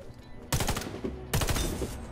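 Two sharp bursts of rapid automatic fire from the online shooter WarFace, loud and close, each lasting under a second with a brief gap between them.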